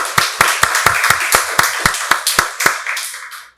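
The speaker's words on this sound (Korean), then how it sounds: "박수로 하나님께 영광 돌리겠습니다." A church congregation at a Sunday worship service claps in a slow, loud, unison rhythm, about a dozen sharp claps in steady beat that stop abruptly near the end.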